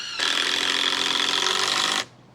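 A power tool whines steadily for about two seconds while driving long screws into solid wood at the back of a rubber roof under repair, close and loud, then cuts off abruptly.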